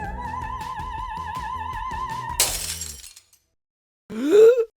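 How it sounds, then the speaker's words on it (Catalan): An opera singer holds a steady, wavering vibrato note until a glass goblet suddenly shatters in a sharp, bright burst. After a brief silence, a low groaning swell follows. "algunes cantants d'òpera són capaces de produir tanta energia amb la seva veu que poden fer esclatar una copa de vidre"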